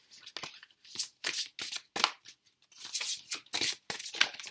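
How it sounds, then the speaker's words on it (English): Large tarot cards shuffled by hand in a quiet room, a rapid series of close, crisp riffling and slapping bursts with brief pauses between them. "kind of have to shuffle like this, mainly because they are quite large"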